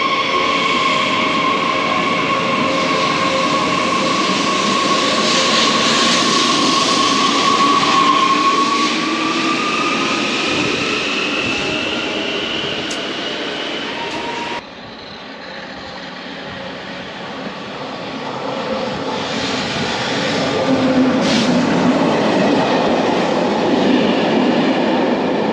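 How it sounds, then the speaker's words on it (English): A regional train runs past with a loud, steady rolling rumble and rail hiss, fading briefly midway before swelling again, with faint clicks of the wheels over the track. "The last co-rail train"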